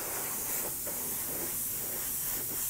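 Black spray paint hisses continuously from a can onto a Bo-Katan helmet, a close, steady airy rush with slight pulses as the spray shifts across the surface.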